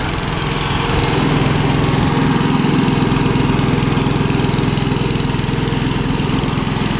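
An engine-driven welder runs steadily while charging batteries, its small engine holding a constant, loud, even drone throughout with no voices.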